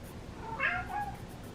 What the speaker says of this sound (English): That's my cat, he said hello.